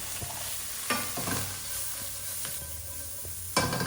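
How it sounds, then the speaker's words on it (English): Spiced chickpeas pushed around a pan with a wooden spoon, giving a soft steady sizzle broken by several distinct scraping stirs, close and clear with no talking. "I try not to mix them too much with a wooden spoon because I don't want them to break up, so I try to just kind of move them around in the pan."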